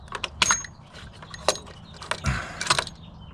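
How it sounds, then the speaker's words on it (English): Metallic clicks, rattles and a short scraping slide as an ignition coil is pulled from a 2004 GMC Canyon engine, close and intermittent with no talking. "So now I can remove this ignition coil potentially."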